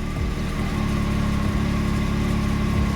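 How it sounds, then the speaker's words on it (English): A 2022 Can-Am Maverick X3 XRC Turbo RR side-by-side engine idling up, a steady, loud, close mechanical hum with a low throbbing pulse and a slight rise in revs, no talking. "you can actually hear the machine idle up a little bit. The RPMs will idle up some"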